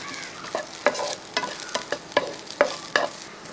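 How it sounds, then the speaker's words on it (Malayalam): Onion, ginger and curry leaves being stirred in a frying pan for a Kerala chammanthi, with a spoon scraping in a series of distinct sharp strokes roughly every half second over a soft, faint sizzle. "കറിവേപ്പിലയും കൂടി ഇട്ട് ഒന്ന് ഇളക്കി കൊടുത്ത്"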